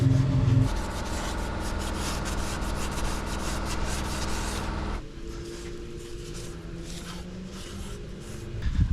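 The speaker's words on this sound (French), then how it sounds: "Donc là on nettoie le plan de joint." Steady scraping and rubbing while the gasket surface of an automatic transmission pan is cleaned during servicing, continuous and fairly loud, with a slight drop in tone partway through and no talking.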